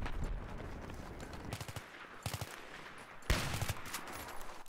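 Enemy gunfire in the multiplayer video game Battlefield 3 comes as several bursts of rapid automatic shots, some distant and one louder volley near the end, over steady battle noise with no speech.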